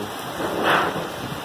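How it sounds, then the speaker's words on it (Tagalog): Heavy typhoon rain and wind hit Angeles City, Pampanga in the early morning hours, a dense continuous roar of downpour with a gust swelling briefly midway. "Lumalakas na yung ulan."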